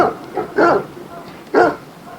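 Two short, sharp dog barks ring out close by, with a few softer yips and whines in between.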